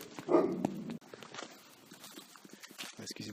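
A dog barks once nearby, a short sharp bark followed by faint patter and softer indoor sounds.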